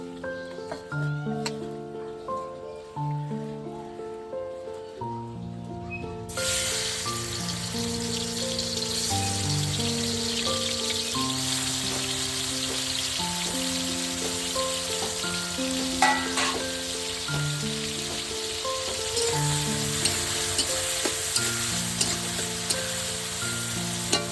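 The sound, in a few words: prawns frying in hot oil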